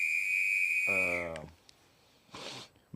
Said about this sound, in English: Whistle for me.